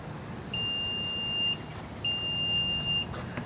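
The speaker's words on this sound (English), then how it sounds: "You hold that button down and listen for the beeps." Two long, steady electronic beeps from a 2026 Nissan Rogue Platinum power liftgate setting its height memory, each about a second, separated by a short pause, clear and close against a quiet background.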